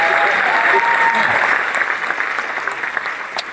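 Audience at a stand-up comedy show breaks into a burst of applause, thick steady clapping that slowly thins over a few seconds, with a voice briefly speaking over the start.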